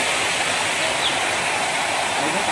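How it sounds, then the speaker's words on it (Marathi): Water rushes steadily through a forest stream near a waterfall at Semadoh in the Melghat tiger forest, a loud, continuous broadband roar with no breaks. "बघा तिकडे पाण्याचा आवाज येत आहे"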